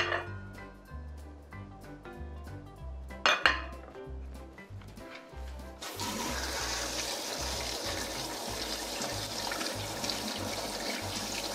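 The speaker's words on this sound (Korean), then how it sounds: "이제 절여놨던 채소들은 찬물에 충분히 헹군 뒤에 수분을 제거해 주도록 하겠습니다." Salted vegetables for a Korean chiljeolpan dish being rinsed under cold running water, with clinks of a bowl and dishes at first, then a steady close stream of water from a tap filling the second half.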